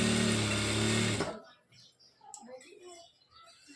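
A sewing machine stitches a dress top in a loud, steady whirring run for about a second and a half, then stops abruptly, leaving faint chirps and quiet background.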